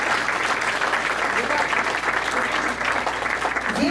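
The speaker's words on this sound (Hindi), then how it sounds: "जोरदार तालियों से आप सब उस खुशी का एहसास उनको कराएं" An audience at an Eid celebration applauds an anniversary with a loud, steady wash of clapping from many people, unbroken throughout.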